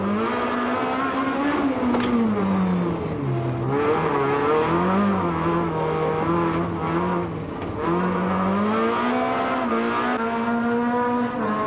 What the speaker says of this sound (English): Habich was on the rev limiter as he flashed past the camera